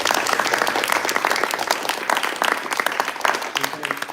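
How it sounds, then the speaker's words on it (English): An audience at a live digital mental health panel event applauds four panelists, a dense, steady burst of clapping that fills the room for the full stretch without a break. "Round of applause for these four,"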